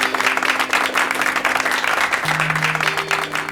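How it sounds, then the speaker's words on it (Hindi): A studio audience on a television quiz show gives a loud, steady round of applause for a contestant's prize win, with a low sustained musical tone underneath. "एक बार जोरदार तालियां।"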